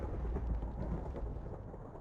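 Rain falls with low rumbling thunder in Minecraft Bedrock Edition, a dense steady downpour under a deep continuous roll, with no voices.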